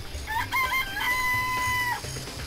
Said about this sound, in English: Chicken coop. There's chickens.